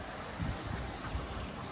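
Wind whistles and buffets through a narrow sea passage while sailing in Greece, a loud, rough rushing with faint hiss and water wash, brief and close to the microphone.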